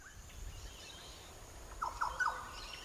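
A few short, shrill squeaky calls from rainbow lorikeets, small brightly coloured Australian parrots, come in quick succession late in the clip over faint background ambience.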